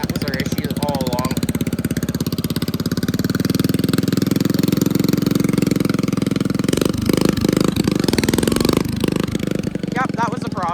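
A John Deere lawn tractor engine runs loud and close after a drive-belt fix, a steady buzzing drone that shifts and surges near the end, with a voice talking over it.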